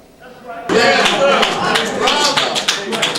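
Loud applause breaks out suddenly from an audience at a religious address by the Nation of Islam, dense sustained clapping filling the room after a quiet moment.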